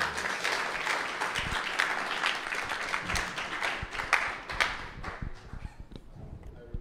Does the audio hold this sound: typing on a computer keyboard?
no